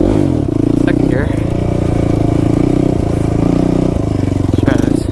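Kawasaki KFX 450R ATV engine pulling in second gear on a dirt track, a loud, close, steady buzzing drone with small dips and surges, and someone talking over it.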